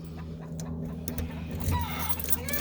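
Chickens cluck in the background near their coop over a steady low hum, with a few light clinks and rustles nearby.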